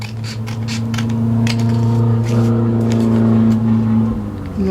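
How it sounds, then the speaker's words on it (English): Motorcycles rev on a backcountry road outside, a steady droning engine hum with rising and falling revs heard from a distance indoors, fading near the end. "Noisy motorcycles outside again today."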